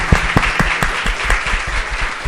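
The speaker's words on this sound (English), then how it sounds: "Can we get a round of applause for all the artists?" An audience applauds the artists at a contemporary art prize event, a dense, loud, steady clapping with sharp individual claps standing out throughout.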